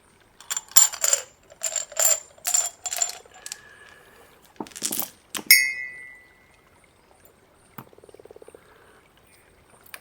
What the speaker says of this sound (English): I might need more dice for this.